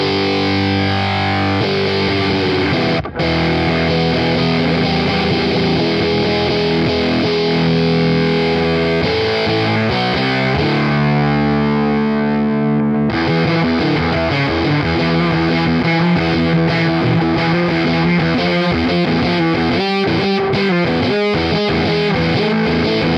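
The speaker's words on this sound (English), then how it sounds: "we're gonna see what the Swollen Pickle sounds like with everything set at noon" Electric guitar played through a Way Huge Swollen Pickle fuzz pedal with every knob set at noon, giving a loud, thick, saturated fuzz with sustained chords and riffs, a brief drop near the start and a thinner passage before the full fuzz returns.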